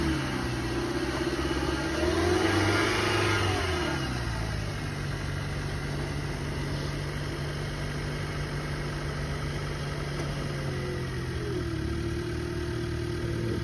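A 2012 Hyundai Accent's engine runs quietly at an auction lot, rising briefly as the car shifts forward and backward, then settling into a steady, faint idle.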